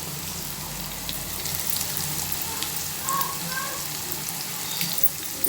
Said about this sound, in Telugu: ఇప్పుడు నూనె కాగిందండి దాంట్లోకి మనం కోసి పెట్టుకున్న ఉల్లిగడ్డ ఉల్లిగడ్డ పచ్చిమిర్చి